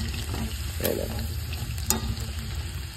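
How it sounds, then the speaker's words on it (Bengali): Pakoras frying in a pan of hot oil, a steady close sizzle with a couple of brief sharper clinks or stirs, no talk. "আর এই পাশটা আগে পকোড়াগুলো বানিয়ে নিচ্ছে।"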